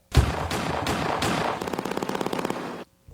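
Several heavy gunshots boom in sequence, then a rapid burst of automatic fire rattles before cutting off abruptly.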